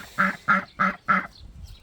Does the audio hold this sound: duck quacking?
yes